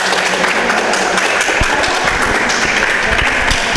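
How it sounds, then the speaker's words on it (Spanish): An audience at a Fallas event for a Fallera Mayor claps in a dense, steady burst of applause that fills the short moment. "fuerte aplauso para ella"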